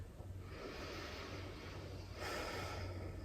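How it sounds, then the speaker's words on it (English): A slow, deep breath drawn in and let out during a seated chair yoga stretch, a soft airy rush close by that swells near the end, with no talking. "we'll just take one more deep breath"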